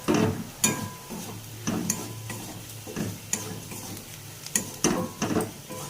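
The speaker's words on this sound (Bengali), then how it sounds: "এবার ভালো করে মশলাটাকে মিক্স করব" Ground spices, cumin and coriander powder, sizzle softly in a pan while a spatula stirs and scrapes through them in a few distinct strokes, close and steady with no talk.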